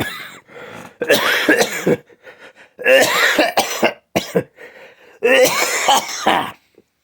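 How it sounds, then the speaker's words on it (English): Close, harsh coughing comes in three bursts, each a cluster of several rough coughs separated by brief pauses. "I started coughing for some reason"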